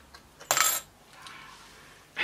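Metal coins clink during a magic trick with several coins, one bright clattering burst followed by softer handling rustles and another chink at the end, close and quiet with no talking.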